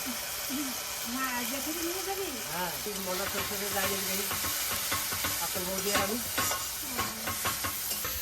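Onion is fried and stirred with spices in a pan, sizzling steadily with repeated spatula scrapes close by, while a voice talks over much of it.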